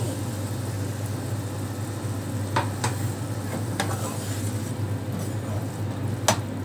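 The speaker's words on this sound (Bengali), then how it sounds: "এবারে এটা একটু কষিয়ে নেব।" Cumin, green chilli and tomato paste with a splash of water sautéed for Bengali pabda fish curry, a steady soft sizzle with occasional clicks of a spatula scraping the pan, under a constant low background hum.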